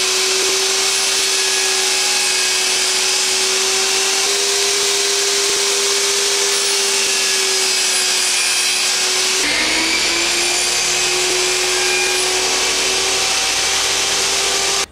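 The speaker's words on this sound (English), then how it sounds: "I just kind of free-handed it with the bandsaw." A bandsaw runs steadily, its blade set to half the thickness of wooden box sides as it cuts them freehand in several passes, a loud continuous whine with a brief shift in pitch partway through.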